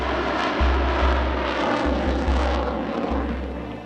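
A propeller aircraft flies past at the La Ferté-Alais air show, its steady loud engine drone with a strong low throbbing rumble that holds for several seconds and eases slightly at the end.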